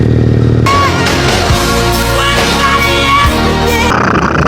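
A motorcycle engine roars at speed, loud and close, a continuous harsh drone with brief dips and surges as it pulls along, wind noise mixed in.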